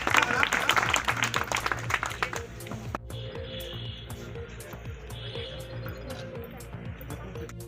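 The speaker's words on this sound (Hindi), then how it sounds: "जोरदार ताली।" A gathering at a Red Cross hygiene-kit distribution for adolescent girls breaks into loud, rapid clapping that fades after a few seconds into softer scattered claps under murmuring voices.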